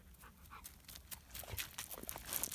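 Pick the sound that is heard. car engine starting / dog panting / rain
dog panting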